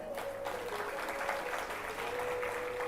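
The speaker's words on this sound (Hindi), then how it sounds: "एक बार जोरदार तालियां" An audience at a Hindi religious discourse breaks into loud, sustained applause, a dense wash of clapping that continues evenly throughout, with a faint held tone underneath.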